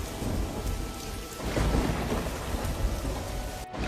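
A violent storm of heavy rain and thunder pours down. The downpour hisses densely and loudly without a break, layered with deep rolling thunder rumbles, and no voices are heard.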